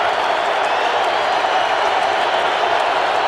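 A football stadium crowd roars at a New York Jets at Indianapolis Colts NFL game, a steady, even wash of distant cheering with no distinct peaks.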